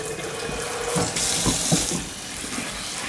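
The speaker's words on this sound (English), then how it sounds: "See, you can already see as I'm putting water in there" Water pours steadily from a tap into a pot, a close rushing splash that swells midway and then settles into a softer stream.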